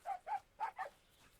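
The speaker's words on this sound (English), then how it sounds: "And the dog's here again. I can hear him." Four quick barks from a dog in an Australian-themed video game, evenly spaced over about a second and fairly close, standing alone with no talk over them.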